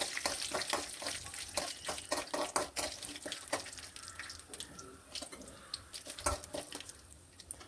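Dried red chillies crackle in hot oil in a pan while Karuvepillai rice is being cooked, an uneven run of sharp pops and sputters that thins out into a softer sizzle, close and with no speech.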